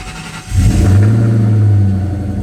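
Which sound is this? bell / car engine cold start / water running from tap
car engine cold start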